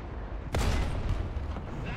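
A tank cannon shot in the War Thunder video game, from a T-34-85 with the D-5T gun: one sudden loud boom with a rumbling tail, followed by fainter crackling impacts.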